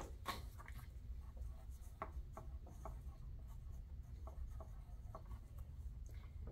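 A pencil or pen writes numbers by hand on paper during an elementary math lesson, giving soft, close scratching strokes and taps in irregular bursts over a quiet room.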